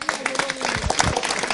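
At a goat braciola and percoca-in-wine food festival in Siano, an outdoor crowd claps for the town mayor, scattered hand claps mixing with nearby chatter and voices.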